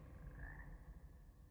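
Frog croaking in the video game Hogwarts Legacy, a low, rough, continuous croak lasting about a second and a half, close and steady with no talk over it.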